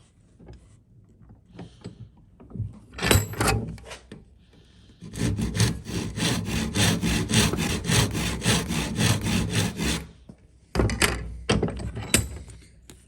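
A hand saw cuts a notch in wood down to the line, with rhythmic rasping strokes for about five seconds. A few short scrapes and knocks come before it, and a final burst of sawing follows, all close and clear.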